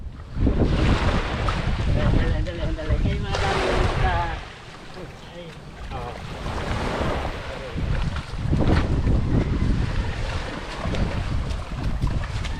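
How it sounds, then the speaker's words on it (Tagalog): Strong wind buffets a small boat at sea, roaring in gusts against the microphone with waves and water sounds beneath, while people talk intermittently over it. "Grabe ang hangin."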